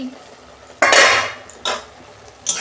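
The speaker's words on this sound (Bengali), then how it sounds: "দেখুন বন্ধুরা, ঢাকনা খুলছি।" A lid comes off a pot of red amaranth greens cooking with peanuts and poppy seeds: a loud metallic clatter, then two shorter clinks of metal, close by and with no voices.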